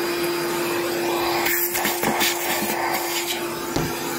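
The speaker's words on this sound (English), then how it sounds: "So let's go ahead, turn around, and let's vacuum up all that" A battery-powered handheld vacuum runs continuously with a steady motor whine, sucking up rat debris from a riding lawn mower, with brief scraping and rustling as the nozzle rubs against surfaces; no talking.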